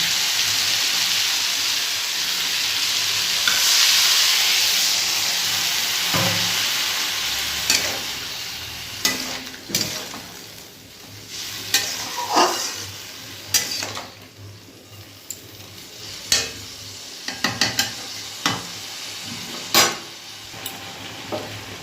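Small fish frying in a pan after a little water is added, a loud dense sizzle and hiss that gradually settles, broken by scattered clinks and scrapes of stirring.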